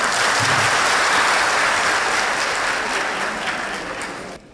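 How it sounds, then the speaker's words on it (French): A hall full of people at a school graduation ceremony bursts into loud, dense applause that holds steady for several seconds, then thins gradually and cuts off. "tous vos applaudissements"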